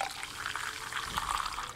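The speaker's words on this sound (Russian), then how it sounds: "Ну-ка наливаем." A drink being poured in the Tavern Manager Simulator video game, a steady liquid splashing and gurgling fill that runs continuously, moderately loud with no talk.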